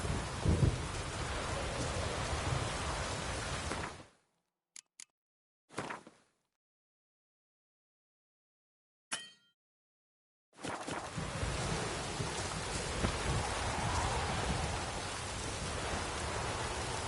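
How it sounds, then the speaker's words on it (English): Steady heavy rain and rumbling thunderstorm in the game The Witcher 3: Blood and Wine, a loud continuous wash that cuts out abruptly for several seconds of near silence with a few brief bursts, then returns at full strength. "Storm, damn it."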